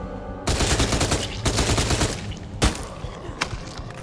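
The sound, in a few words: submachine gun firing in video game Night of the Dead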